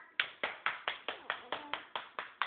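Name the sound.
hand clapping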